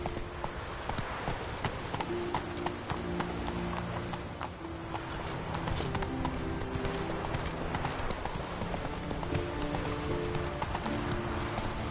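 Galloping horse in The Witcher 3: fast, steady clip-clop of hooves over a continuous game soundscape with a soft musical drone, even in loudness throughout.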